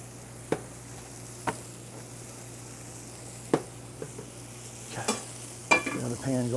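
Pork chops with a barbecue rub sizzle steadily in a frying pan, a low continuous fry broken by several sharp clanks and scrapes of utensils against the pan.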